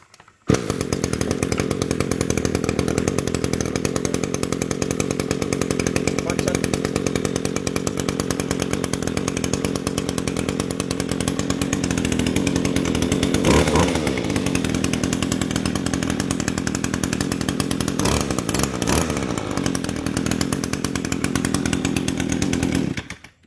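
Echo Kioritz 2625 brush cutter two-stroke engine running close and loud for over twenty seconds, a raspy buzzing drone with brief revs near the middle and end before it cuts off.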